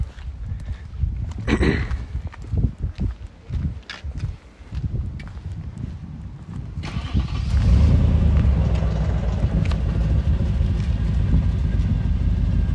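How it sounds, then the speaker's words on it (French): After some handling clatter, an Audi S4 B7 V8 cranks and fires up, then settles into a loud, deep, rumbling idle close by. "Je te laisse nous la mettre en route pour qu'on écoute le son."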